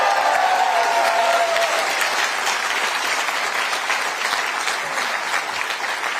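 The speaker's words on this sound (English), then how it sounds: "Give her a big round of applause." Loud, dense clapping from an audience at a political rally on a university campus, sustained and even throughout, with a faint voice briefly heard at the start.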